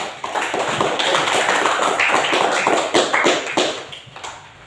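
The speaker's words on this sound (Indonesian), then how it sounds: "Tepuk tangan kita semua." A classroom of students applauds during a teaching-practice lesson, a dense, even patter of many hands clapping steadily for several seconds before thinning out at the end.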